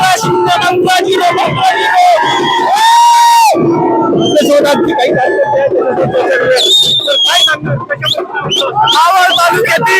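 Party workers at an election victory celebration for Ajit Pawar's NCP in Maval crowd together, whistling, whooping and cheering loudly and continuously, with a brief sustained whistle blast in the middle and voices shouting throughout.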